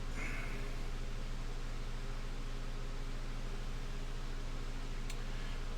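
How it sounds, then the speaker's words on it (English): A small hair dryer blowing over wet paint on a miniature figure, a steady close whirring hum with constant airy noise and no breaks throughout. "Just use a little hair dryer just to speed that up a bit."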